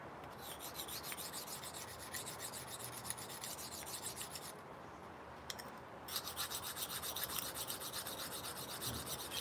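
A steel blade is sharpened on a sharpening stone, giving a steady, close rhythmic rasping of back-and-forth strokes that pause briefly midway and then resume.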